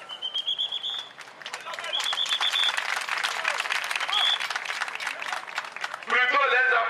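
Applause from an assembled audience at a public address about the FRAC, a dense wash of clapping running under a continuing voice, with birdlike chirps and a burst of louder noise near the end.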